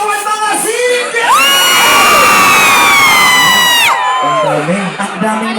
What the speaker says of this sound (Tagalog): Isang hiyawan mga single!